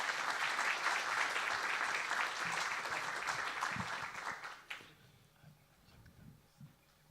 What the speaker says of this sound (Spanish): Un aplauso para él también.